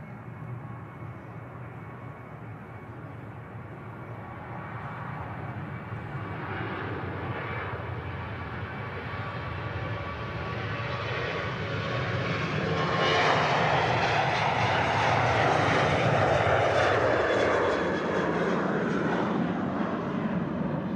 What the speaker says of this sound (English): Ryanair next to depart. Enjoy this one. Another wet head-on departure.